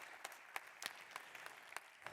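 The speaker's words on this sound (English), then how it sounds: "Another round of applause," Applause at a media technology award ceremony, quiet steady crowd clapping with occasional sharper individual claps, heard at a distance with no voices.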